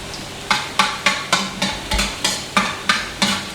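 Garlic frying in a pan as it is stirred for Bicol Express, a soft sizzle under a steady run of about nine rhythmic scraping strokes of the spoon against the pan.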